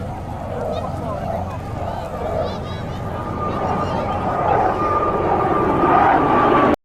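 Gripen and T-50TH fighter jets roar steadily overhead at an international air force show, a loud sustained engine rush that swells toward the end over crowd babble and a commentator's voice.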